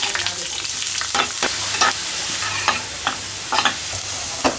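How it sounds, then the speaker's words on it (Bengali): Bitter gourd (karela) fries loudly in a pan with a strong, constant sizzle. Intermittent scraping strokes from stirring cut through it now and then. "এই যে করলা ভাজিটা বসাই দেবো এখনই"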